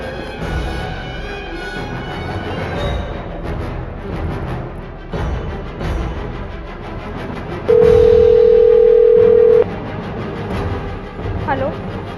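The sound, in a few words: telephone dial tone while placing a phone call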